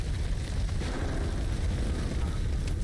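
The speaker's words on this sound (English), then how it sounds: "Technically, that's not how a grenade would explode" A grenade explodes in a video game, a low rumbling, continuous boom with crackling debris that stays loud and fairly steady, with no distinct sharp onset.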